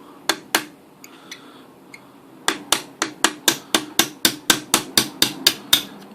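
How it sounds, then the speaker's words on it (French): A hammer taps a steel pin punch to drive a pin on a CZ 455 rifle: a few sharp strikes, a pause, then a steady run of about a dozen close, loud, evenly spaced blows. "on va prendre notre chasse-goupille. On positionne le marteau."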